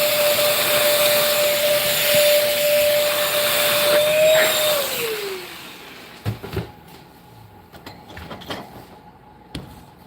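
A vacuum cleaner runs loudly while cleaning a guinea pig cage, its steady whine dropping in pitch as the motor winds down, followed by scattered knocks and clatters of handling nearby.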